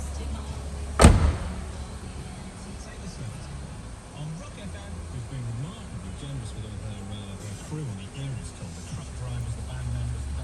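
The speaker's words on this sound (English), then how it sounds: "door shuts" A single solid car door thump near the start of a BMW Z3 2.8i roadster, followed by a quiet interior hum and someone talking.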